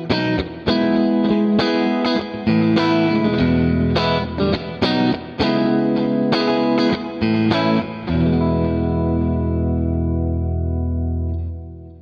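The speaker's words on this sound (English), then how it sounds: "I'm going to change to a spring reverb now" Electric guitar through a Benson Chimera amp tone with spring reverb, loud distorted strummed chords and riffs in choppy rhythm, ending on a sustained chord that rings out and decays.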